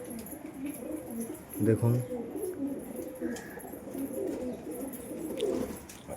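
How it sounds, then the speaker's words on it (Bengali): Pigeons in a loft coo softly and scuffle while bathing, with low throaty coos and light fluttering under someone speaking quietly nearby. "মারপিট লেগে গেছে সব পায়রাগুলো চান করতে গিয়ে।"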